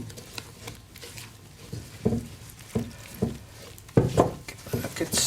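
Buttermilk being stirred into flour in a bowl for Ulster-Scots soda farl dough, heard as a series of soft, close scraping and knocking strokes that grow louder and denser toward the end.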